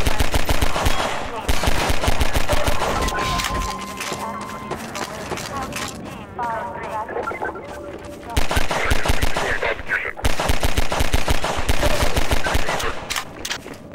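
Rapid gunfire from weapons in the Half-Life 2 video game: loud bursts of automatic shots and single cracks, mixed with game effects and a voice talking over the action.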